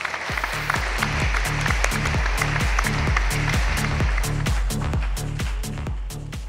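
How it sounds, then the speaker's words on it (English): Audience applause at a corporate telecom event as Bharti Airtel's CEO is welcomed on stage, a broad wash of clapping over a loud, steady thumping music beat that runs throughout. "a huge round of applause in welcoming him"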